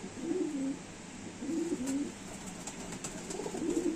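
Madrasi highflyer pigeons with closed tails cooing in soft repeated phrases, three distinct coos close by against a quiet background with faint clicks.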